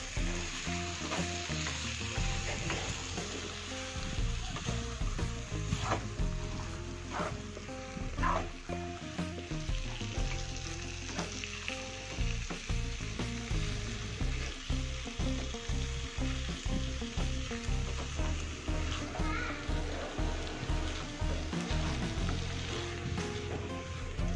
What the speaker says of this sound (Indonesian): Kemudian kita aduk kembali.